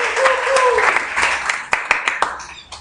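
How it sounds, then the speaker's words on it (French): An audience at a French coaching web conference applauds and cheers for Cynthia, a brief burst of clapping with voices mixed in, fading into a few scattered claps toward the end. "Encourageons Cynthia, s'il vous plaît, par l'acclamation."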